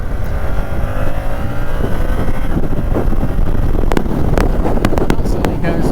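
A 2022 Yamaha R7 motorcycle accelerates onto a dual carriageway, its engine a steady loud roar under heavy wind rush across the microphone, with a few sharp clicks or gusts near the end.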